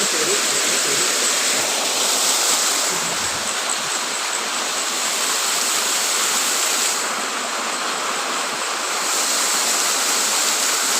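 Waterfall in a forest setting, a steady broadband roar of falling water that fills the whole stretch, constant and fairly loud with slight swells, no speech over it.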